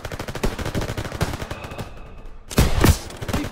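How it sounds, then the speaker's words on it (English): Dense rapid gunfire erupts in the Call of Duty WWII video game, a close, loud automatic rattle of machine guns and rifles with a short lull before heavy bursts resume. "Jeez, open fire!"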